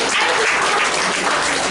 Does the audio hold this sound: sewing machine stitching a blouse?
no